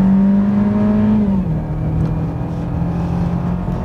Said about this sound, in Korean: 현재 수동 모드에 두고 가속을 시키고 있는데요